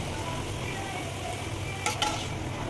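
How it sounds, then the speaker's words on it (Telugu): Peanuts frying in hot oil and being stirred, a steady close sizzle with a brief clatter of the utensil against the pan near the end. "పల్లీలు ఇలా వేయించుకోవాలండి."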